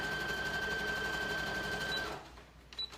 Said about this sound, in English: pin that down and sew it